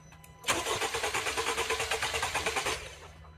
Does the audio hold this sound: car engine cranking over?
yes